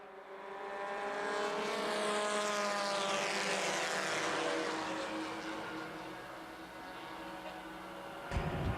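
Race cars on a short oval at a 2012 Winchester 400 weekend preliminary event, engines rising together into a loud sustained roar as the pack heads to green for an 8-lap race, with a sweeping pitch shift as they pass.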